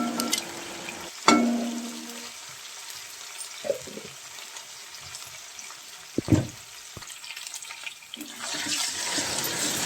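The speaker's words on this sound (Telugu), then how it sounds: "ఉల్లిగడ్డను బాగా వేయించుకొని ఉల్లిగడ్డ గోలిన తర్వాత అల్లం వెల్లుల్లి పేస్ట్ వేసుకోవాలి" Onions fry in a pan with ginger garlic paste, a low, steady sizzle broken by occasional scraping clanks of a spatula, with the hiss swelling louder near the end.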